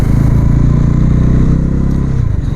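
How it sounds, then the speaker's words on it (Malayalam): A 2025 Bajaj NS400Z motorcycle with its 373cc engine runs in a loud, steady, low throbbing drone close by, easing slightly near the end, with no speech over it. "2025 മോഡൽ ബജാജിൻ്റെ NS 400Z ആണ്."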